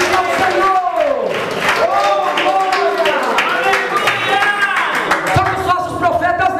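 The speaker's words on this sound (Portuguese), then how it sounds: "Pode bater as palmas, pode dar glória, glória." Church congregation clapping hands during a Portuguese-language sermon in Povoado Besouro, Bahia, a rapid rhythmic clatter running throughout, with singing or chanting voices carried over the claps.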